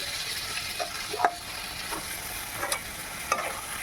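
Boiled amla going into jaggery syrup cooking in a pan, with a soft steady simmering hiss and a few faint scraping stirs, no voices.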